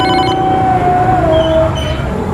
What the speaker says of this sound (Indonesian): Wah, telepon.